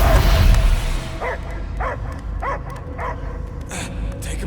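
Cosmo the space dog barks in Guardians of the Galaxy, a run of about five evenly spaced yelping barks over a steady low game rumble, following a louder noisy swell.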